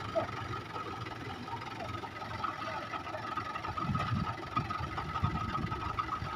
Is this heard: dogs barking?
no